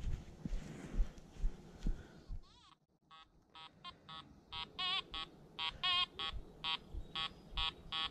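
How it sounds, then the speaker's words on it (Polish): Makro Multi Kruzer metal detector sounds a loud signal in a forest, a series of sharp, evenly pulsed electronic tones repeating after some rustling of the search coil, close and clear with no talk. "Głośny sygnał."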